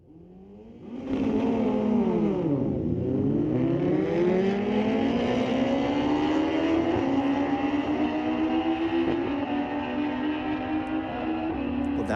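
Motorcycles drag race down a raceway strip. After a short idle, a loud engine fires off in a sustained high-revving run with rising and falling pitch through the gear changes. It stays close and loud, and no one speaks.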